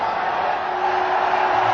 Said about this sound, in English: Crowd lets everybody know that this game will start.